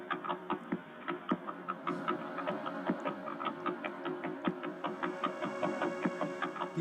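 Millisecond pulsar signals rendered as sound, layered over a slower pair of pulsar beats: a dense, steady train of rapid clicking pulses with a continuous whirring hum underneath, alone and even throughout.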